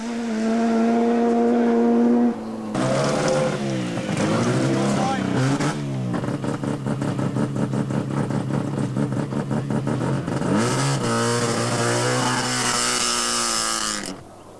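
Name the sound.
rally car driving through a stage, 1986 Rally New Zealand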